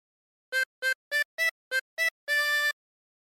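A 24-hole tremolo harmonica plays a Yankee Doodle phrase alone: six short, evenly spaced blown and drawn notes, then one longer held note, reedy and close.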